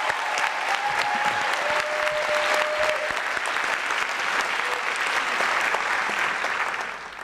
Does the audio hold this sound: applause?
yes